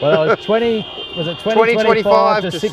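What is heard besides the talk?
No everyday noises stand out.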